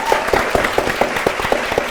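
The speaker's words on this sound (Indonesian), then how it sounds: "tepuk tangan untuk kedua tim" Applause for both teams on an Indonesian quiz show, a brief burst of clapping from a studio audience with a steady, fairly loud patter and no talk over it.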